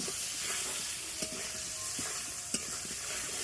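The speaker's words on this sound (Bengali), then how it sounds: "হ্যাঁ, এবার নাড়া দে, সব কটা আলুতে লেগে যাবে।" Potatoes fry in turmeric-yellow oil with a soft continuous sizzle, while a spoon stirs and scrapes the pan in a few sharp clinks, quiet and close.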